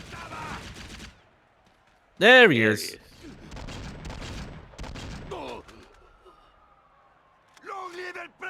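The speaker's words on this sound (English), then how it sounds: "well, I hear gunshots." Bursts of gunfire from a video game crackle in short clusters between quiet gaps, alongside voices talking over the action.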